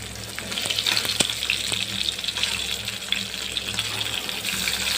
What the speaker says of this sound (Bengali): মাছ রান্না করতেছি।